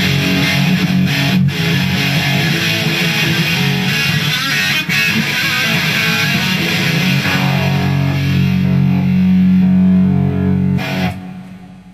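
Heavily distorted electric guitar through a 2003 Marshall amp with the scoop button engaged, giving a mid-scooped crunch; one continuous loud passage of chords and notes rings steadily for about eleven seconds, then cuts off abruptly, with no talking.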